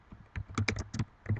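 Keys on a computer keyboard clack in a quick, uneven run of about a dozen close, crisp strokes as a file name is typed.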